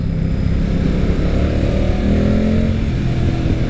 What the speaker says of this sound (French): on a un grondement de ténor à chaque accélération, notamment au-delà de 5000 tours